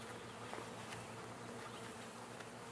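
Honey bees hum in a dense, continuous drone during a cutout of a colony living inside an RV. The buzzing is faint and even throughout, with no voices.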